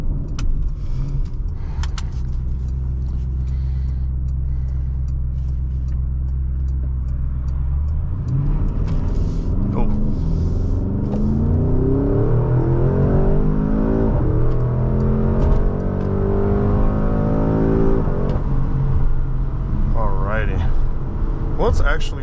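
A 2022 Porsche Cayenne GTS Coupe driving, a low steady engine drone that climbs into rising and shifting revs through gear changes, with the cabin hum continuing throughout.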